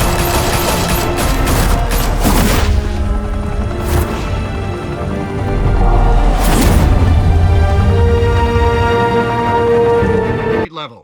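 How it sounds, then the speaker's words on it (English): Batman Telltale Series game gunfire erupts in loud, rapid bursts of automatic weapons with booming impacts. Short pauses break the volleys, then heavy shooting resumes before it cuts off abruptly. "Open fire!"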